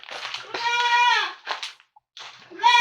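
Goats in a homestead barn let out a loud, close, wavering bleat followed by shorter calls and a final rising bleat, with brief quiet gaps between them.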